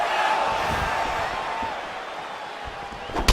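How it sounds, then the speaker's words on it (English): Virtual arena crowd in the UFC 4 fighting game during a Bruce Lee versus Israel Adesanya bout, a steady roar of oohing and murmuring spectators throughout, with a brief sharp thud near the end. "You hear this crowd just eating out of his hand"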